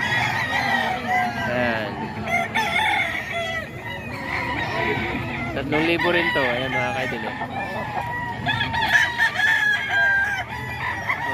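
Several stag roosters crowing repeatedly nearby at a gamefowl yard, loud calls rising over a steady background while someone talks throughout in Filipino.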